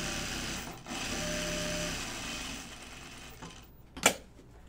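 A sewing machine stitches a pocket on shorts in a quiet, steady whir that stops briefly, resumes, then ends with a short sharp click or clunk.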